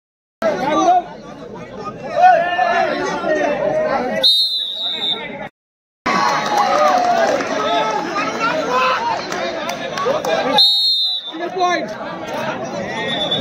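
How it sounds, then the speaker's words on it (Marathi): Spectators at a village sarpanch-cup sports match cheer and shout loudly, a dense, excited crowd din with whistles, broken by two brief drop-outs and a near-silent gap. "त्याच्या आधीच बराच काही जल्लोष होतोय तो म्हणजे ओली संघाच्या प्रेक्षकांकडून"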